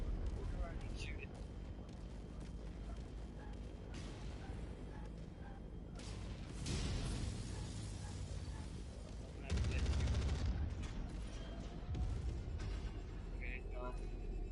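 Mech weapons fire in MechWarrior 5: Mercenaries, heavy booming blasts and rapid bursts under a steady engine rumble, with a player talking over the combat.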